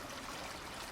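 A babbling stream spills over a small waterfall, a steady, dense rush and trickle of water, close and even, with no voices.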